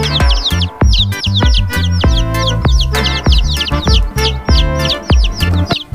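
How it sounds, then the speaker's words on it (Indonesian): A toy chick chirps rapidly and repeatedly, bright electronic-sounding peeps over a thumping, bouncy backing tune, loud and close. "Ini anak ayam dan suaranya."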